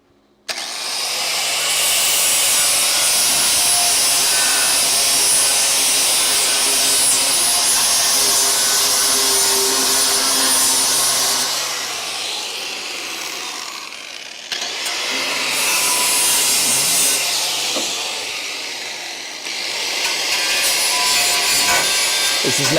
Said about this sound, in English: This is not how you use a flap disc.